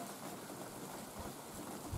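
Steady rain falls in a dense, even hiss during a small storm, with a couple of soft low thumps near the end and no voices.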